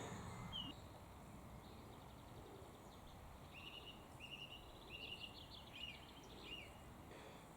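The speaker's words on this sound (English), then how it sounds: "All the birds are singing." Faint evening birdsong on a Yorkshire Dales country walk, with scattered high chirps and short trills over a soft steady background, distant and quiet throughout.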